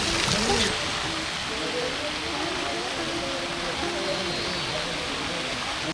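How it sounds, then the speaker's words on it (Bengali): Water splashes continuously from a fountain in Udaipur, Rajasthan, a steady hiss like falling rain, with faint voices underneath. "নর্মাল ফাউন্টেন কিন্তু আওয়াজটা এরকম কি আসে বৃষ্টি হচ্ছে।"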